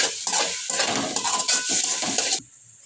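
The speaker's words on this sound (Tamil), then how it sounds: "அதையும் நல்லா வதக்கிட்டுக்கோங்க" A metal spoon scrapes and clatters against a pan while food sizzles underneath, steady stirring for a couple of seconds before it stops.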